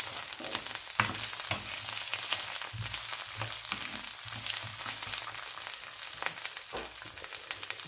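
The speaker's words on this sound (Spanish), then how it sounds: "Luego de unos segundos también ponemos los ajos. Y vamos moviendo todo." Garlic frying in a pan while being stirred, an unbroken close sizzle with scraping strokes from the stirring and a few sharper clinks, steady throughout with no voices.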